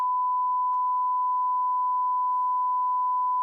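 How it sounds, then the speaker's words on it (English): A single steady electronic beep tone holds one pitch for several seconds, clean and unbroken against a silent background. "There's going to be another beep."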